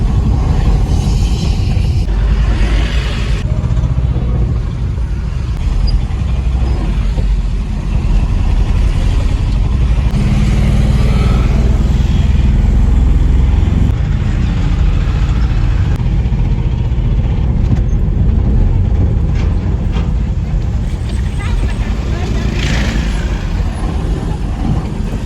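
A truck loaded with springs drives along a road near Chennai, its engine droning loud and steady throughout with continuous road rumble and no pauses.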